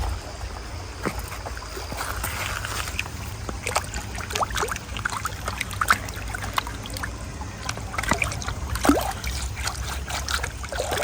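An old cooked-out Gartgraig brick from Scotland is dipped into water outdoors, giving soft trickling and sloshing splashes, with several brief dribbles and small plunks over a steady low background rumble.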